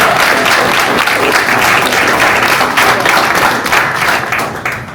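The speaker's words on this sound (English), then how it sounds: "Let's give Slugo a round of applause." A Chicago audience gives a loud, sustained round of applause for Slugo, many hands clapping densely and evenly for five seconds with no break, cheering faintly mixed into the crowd noise.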